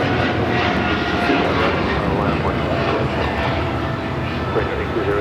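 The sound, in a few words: Korean Air Cargo Boeing 777 Freighter taking off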